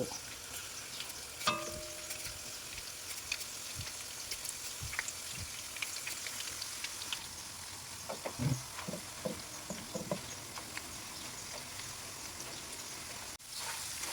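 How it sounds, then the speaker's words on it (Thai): Slices of raw unpeeled banana deep-frying in oil, a continuous faint bubbling crackle like light rain, with scattered clicks and stirring sounds, fairly quiet and with no voices. "ทอดไปแบบนี้เรื่อยๆจนกว่ากล้วยจะหมด"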